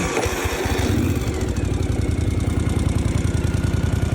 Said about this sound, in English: It does sound like a motorcycle